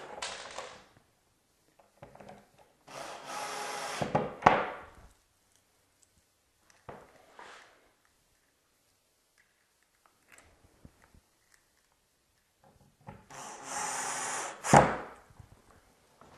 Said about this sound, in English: we use a 3/4 inch panhead screw and fasten all these into position